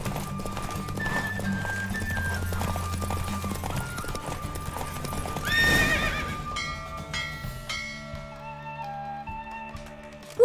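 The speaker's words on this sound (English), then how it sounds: "Don't spare the horse!" A horse gallops with rhythmic hoofbeats over game music in a horse race in The Witcher 3: Wild Hunt, then whinnies loudly near the middle before the music carries on.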